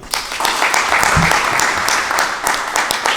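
Steady audience applause filling a hall at the close of a talk, dense continuous clapping with a few sharper claps standing out, loud and sustained without speech.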